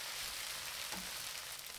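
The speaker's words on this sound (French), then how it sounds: "les pâtes vont griller légèrement et prendre un bon parfum de grillé en plus des saveurs de la sauce" Rice noodles for shrimp pad thai frying and toasting in a pan, giving a faint, steady sizzle with no talking.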